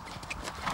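Horse hooves galloping in Andalusia, a brief patch of muffled, rhythmic hoof beats heard close over steady background noise.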